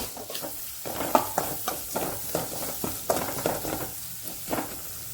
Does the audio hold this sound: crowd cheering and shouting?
no